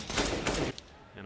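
Gunfire in a Counter-Strike: Global Offensive match during a pro tournament final, a dense burst of rapid shots lasting under a second, loud and mixed with game noise, followed by a quieter tail.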